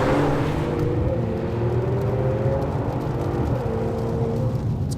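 A 2018 Mercedes-AMG CLS 53 with a smooth turbocharged six-cylinder running with its gearbox in manual mode, heard as a steady, muted engine hum and whir that rises slightly in pitch, refined and even throughout.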